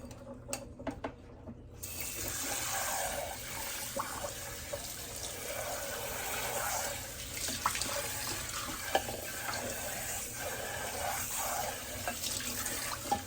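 Steady running water from a tap splashing through a colander, with faint gritty rattles of rice being rinsed and stirred, continuous and close.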